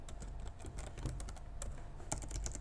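A signature is typed on a computer keyboard as a quick run of light, irregular keystrokes, close and fairly quiet, with no talking.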